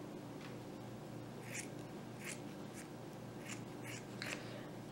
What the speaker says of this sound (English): I'm going to cut this piece off here.